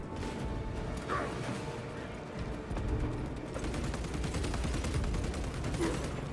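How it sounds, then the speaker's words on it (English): Sustained gunfire in Warhammer 40,000: Space Marine II, steady rapid shots at moderate loudness with crashes and battle clatter, and a voice talking faintly over it. "I think I'm just shooting at it."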